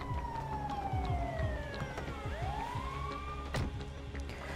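Wailing ambulance siren in GTA 5 Online, pitch sweeping down then rising again over a steady rumbling engine and game ambience, fairly close and continuous, with no talking.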